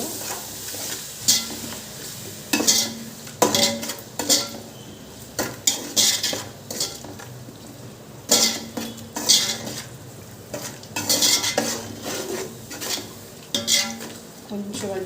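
A spoon scrapes and clanks against a pan while coconut biryani masala fries with a steady sizzle. The stirring strokes come in irregular bursts over the constant hiss of hot oil, close and fairly loud.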